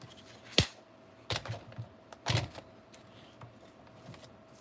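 Paper being trimmed for a Christmas card journal: a few sharp, close, dry cuts and crisp paper rustles spaced a second or so apart over a quiet background, with no talking.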